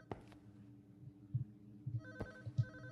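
Telephone ringing inside a house in the horror game Unspoken, a faint repeated electronic bell ring in short bursts with gaps, heard alone over quiet ambient background.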